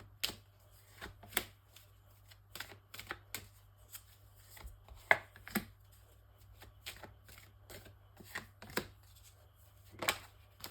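Tarot and oracle cards laid out one by one on a table, giving a run of crisp, close slaps and flicks at an irregular pace under a steady low hum, with no talking.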